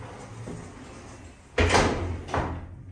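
The doors of an Otis lift, built or modernised in 2005, in Cavendish House in Cheltenham town centre, slide shut with a loud close thud followed by a second softer bump over the quiet hum of the car.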